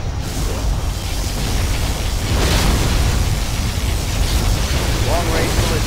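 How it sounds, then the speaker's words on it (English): A particle cannon blast in Command & Conquer Generals Zero Hour: a loud, continuous, roaring discharge that holds steady for about six seconds. "Particle cannon activated."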